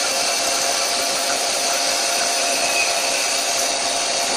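A CNC lathe cuts across the face of a workpiece, giving a steady loud broadband hiss and whine that holds without a break.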